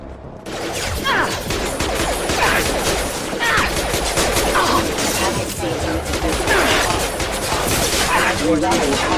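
Sustained gunfire from the Mass Effect 2 video game crackles in dense, overlapping bursts, loud and continuous, with voices speaking under the shooting.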